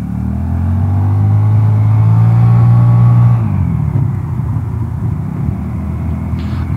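A Vespa GTS 300 scooter fitted with Tech Pulley variator rollers pulls away on a test ride, its engine droning loud and smooth for about three seconds before easing off into a steadier, quieter road hum.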